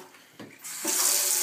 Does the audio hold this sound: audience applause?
no